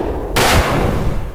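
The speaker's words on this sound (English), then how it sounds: "Gunshots ripped through the air." A single sharp, loud blast hits suddenly and rings out briefly, fading into a rumbling tail.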